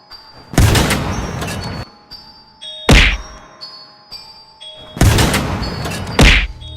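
A cartoon tank fires at two monsters in four heavy booming blasts spaced a couple of seconds apart. Each blast has a loud thudding hit and a short rumbling tail over faint background tones.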